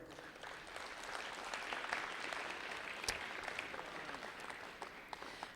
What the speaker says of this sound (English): Have a nice round of applause for Gordie.